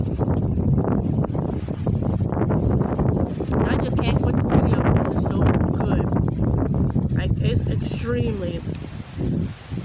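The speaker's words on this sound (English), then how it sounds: "It's getting really, really windy out here" Steady gusting wind buffets the microphone outdoors, with a person talking over the rushing noise.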